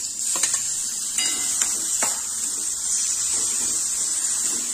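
Ginger, garlic and coriander paste sautés with fried onions in a pan for egg biryani. A steady hiss of sizzling oil runs throughout, broken by a few light scrapes and taps of a spoon stirring.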